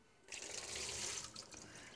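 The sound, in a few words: rinse water draining from soaked blueberries in a strainer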